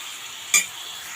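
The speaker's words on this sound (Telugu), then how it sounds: "ఇప్పుడు ఈ చికెన్ బాగా వేపుకుందాము" Chicken pieces fry in hot oil over a high flame for a chicken masala curry, giving a steady hissing sizzle broken once by a single bright clink of a stirring utensil against the pan.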